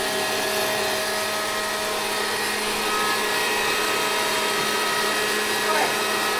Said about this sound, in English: We're now beating the egg.